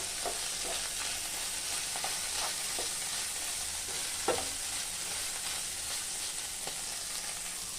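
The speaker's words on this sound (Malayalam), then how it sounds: "ഇപ്പം നമുക്ക് പാവയ്ക്ക ഒന്നും കൂടി നമുക്ക് ഒന്ന് ഇളക്കി കൊടുക്കാം" Sliced bitter gourd fries in a pan with a constant sizzling hiss, broken by light scrapes and taps as it is stirred, close and alone.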